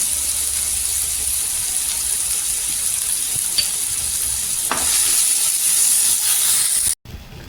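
Tomato frying in oil while being stirred, ahead of dry shrimp for a sukat chutney, a steady close hiss and sizzle with a stirring swish near the end before a brief cut.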